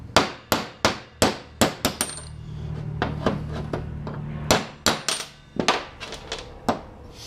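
A hammer gives a 302 Ford V8's new connecting-rod bolts a series of sharp metallic taps, about a dozen strikes in quick uneven bursts with brief pauses, close and clear with no talking.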